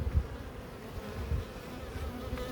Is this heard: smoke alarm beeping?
no